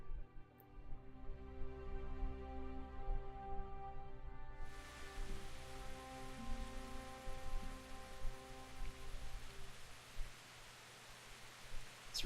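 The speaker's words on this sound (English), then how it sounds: "It's raining." Rain falls steadily in the medieval role-playing video game Kingdom Come: Deliverance, a soft, even hiss of drops that grows fuller partway through. Quiet sustained tones sit underneath.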